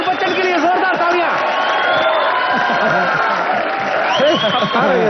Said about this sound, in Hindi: अभिषेक बच्चन के लिए जोरदार तालियां।